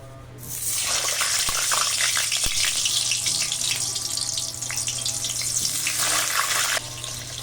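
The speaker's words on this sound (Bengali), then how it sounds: "আলু কেটে ধুয়ে নিয়েছি ভেজে নেব" Washed, cut potatoes go into a pan of oil and burst into a loud, hissing sizzle that starts abruptly and roars steadily, with a few pops and crackles, then drops off near the end.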